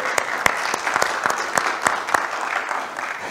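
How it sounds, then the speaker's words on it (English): A church congregation applauds in celebration of a couple's engagement, with loud, close individual claps standing out over a moderate crowd of clapping that stays steady throughout. "We should applaud that."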